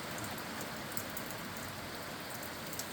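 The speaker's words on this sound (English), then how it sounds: "It's raining there, pretty girl." Steady rain falls outdoors by Clear Lake, California, in mid-November as a constant, even hiss with no voices.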